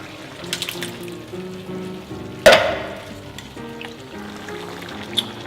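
Squid and organic diced tomatoes in a hot pan, a wet sizzle and bubbling with a sharp clatter midway and a few light utensil knocks, close and continuous with no talk.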